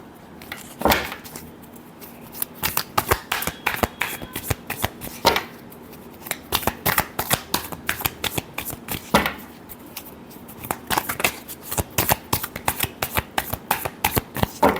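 Tarot cards shuffled by hand in rapid riffling bursts with short pauses between, close and fairly loud, with no talking over it.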